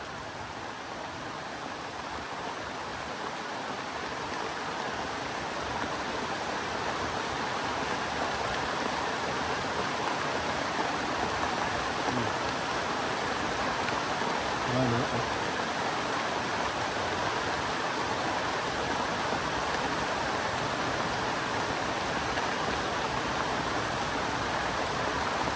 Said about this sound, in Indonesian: Ini posisi hujan ya guys ya.